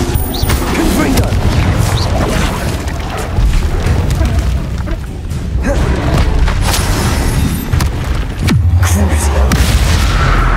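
Confringo blasting spells explode in the Hogwarts Legacy video game as loud, heavy booms over constant battle noise, with a louder thud near the end and a voice shouting during the fight.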